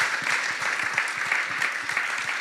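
A forum audience applauds in a steady, dense wash of clapping that holds evenly throughout, moderately loud, with no talk over it.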